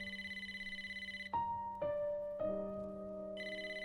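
A phone rings inside the video game Wuthering Waves, a steady electronic trill that repeats, cuts out, and returns as three bright tones chime, all fairly faint with no one speaking.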